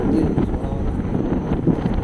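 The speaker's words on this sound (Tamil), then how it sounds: "இப்போ காற்று பார்த்திங்கன்னா பயங்கரமான காற்று அடிக்குது." Strong wind buffets the microphone in heavy, uneven low rumbling gusts that swell and subside continuously, with no voices.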